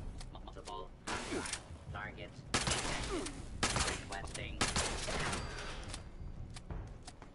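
Bursts of gunfire in the Fallout 76 video game crack out in rapid volleys, several separate loud clusters with voices talking underneath.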